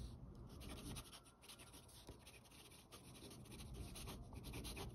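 A Sheaffer Snorkel fountain pen writes on printer paper, giving a soft, continuous scratchy rubbing with small strokes and pauses. It sits faint and close under a steady hiss.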